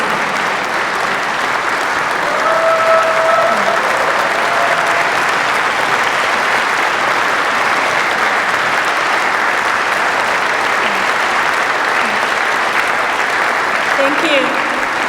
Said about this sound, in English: Korean War veterans, please stand again to give them a big round of applause